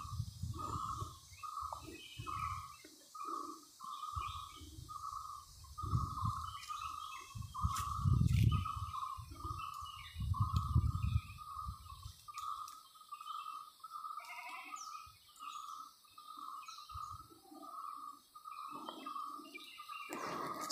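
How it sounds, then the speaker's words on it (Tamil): Sparrows chirp steadily around a village house in a remote forest valley, a rapid, even series of short calls running throughout at moderate distance, with low rumbling and occasional thumps beneath. "சுற்றியுமே வந்து குருவிகளோட சவுண்டு தான் செம சூப்பராக இருக்குது"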